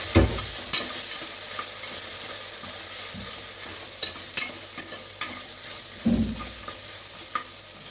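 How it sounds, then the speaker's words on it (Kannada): Onions roasting in a pan for mutton green masala, a steady sizzle and hiss broken by occasional sharp scrapes and clinks of stirring, close and clear with no talking. "ಈರುಳ್ಳಿಯನ್ನು ಕೆಂಪು ಬಣ್ಣ ಬರುವ ತನಕ ಚೆನ್ನಾಗಿ ರೋಸ್ಟ್ ಮಾಡಬೇಕು"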